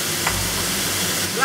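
Beef and onion frying in a pan: a steady, close sizzle with soft hissing and a faint stir, continuous through the short stretch.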